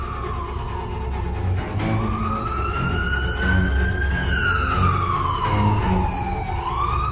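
A police siren wails up and down steadily, loud and close, over the rumble of traffic.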